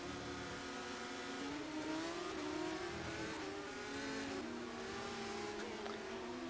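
Race car engines from a sim racing video game, a GPVWC SimNews.Tv Supercup round, whine steadily at high revs, with several engine notes layered and shifting pitch as cars rise and fall through the gears.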